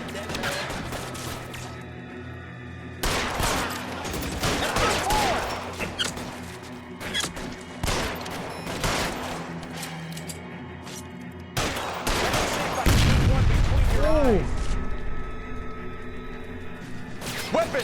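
Gunfire cracks repeatedly in the crime video game L.A. Noire: scattered sharp shots and bursts over a tense background, with occasional game voices.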